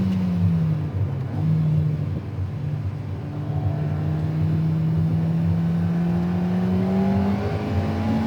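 An Alpine A110 R sports car engine and exhaust drones steadily up through the revs, with smooth rising tones and a gear change shifting the pitch, loud and continuous without any talk.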